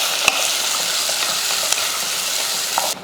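Onion and garlic frying in hot oil while being stirred for a veg biryani side dish, a constant bright sizzle with a few soft scrape clicks from the spoon, close and steady until it drops off at the end.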